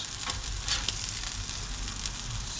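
Eggs fry on a hot griddle, some cooked over easy and some sunny side up, giving a quiet, steady sizzle with a few faint pops. No voices are heard.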